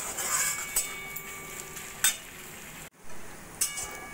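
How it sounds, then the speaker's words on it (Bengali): Bitter gourd and potato coated in poppy seed paste fry gently over a low flame in a wok, giving a faint, soft sizzle broken by a few sharp clinks as a spatula stirs it. "লো ফ্লেমে এইভাবে মাঝে মাঝে নাড়া দিয়ে দিয়ে আমি উচ্ছে পোস্ত ভাজাটা করে নিচ্ছি"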